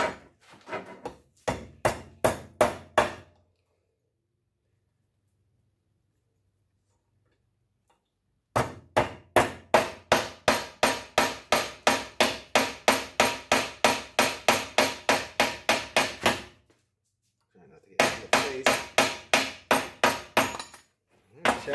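An 80CRV2 steel blade chops through a big nail in rapid, sharp repeated hammer-like strikes, loud and close, coming in three bursts separated by silent pauses.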